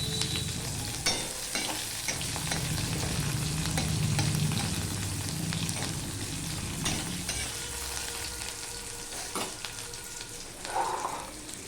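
Onion and garlic sizzle loudly in a pan, a dense, steady frying crackle with intermittent scraping stirs and clinks from a utensil throughout.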